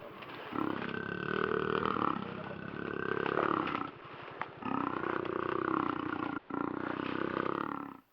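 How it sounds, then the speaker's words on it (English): A jaguar gives a series of deep, rasping roars, three long throaty bursts with short breaks between them. The calls are close and loud, with no other sound. "That was the sound made by a jaguar."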